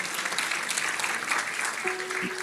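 Church congregation applauding a pianist, steady broadband clapping filling the room with a faint sustained tone entering near the end.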